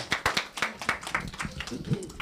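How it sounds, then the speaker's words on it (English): A small audience at a health talk claps as a volunteer comes up, a short run of distinct, fairly close hand claps that thin out, with a voice speaking underneath toward the end. "Everybody give Sam a round of applause."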